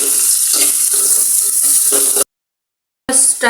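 Bitter gourd frying in plenty of oil in a pan while stirred, a loud steady sizzle with soft scraping strokes, cut off abruptly by a brief silence before the sizzling returns.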